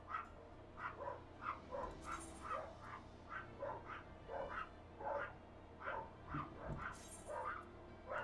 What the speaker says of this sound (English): I hear a small dog above.